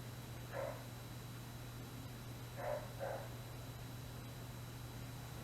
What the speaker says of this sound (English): You can certainly hear that dog out there.